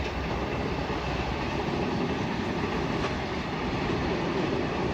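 A goods train rolls past in Denmark, its steady broadband rumble and wheel noise filling the whole stretch at close range, loud and unbroken with no voices.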